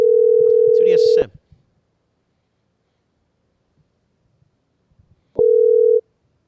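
A telephone ringback tone plays as a steady, loud electronic tone in two bursts separated by a long silence, with brief talk overlapping the first burst.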